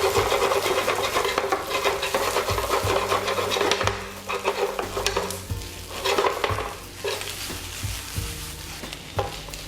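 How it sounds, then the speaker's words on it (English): Mixed vegetables and spinach sautéing in a pan, a steady loud sizzle with repeated stirring scrapes and knocks of the utensil throughout, no voices. "We're going to saute this until the spinach actually are done"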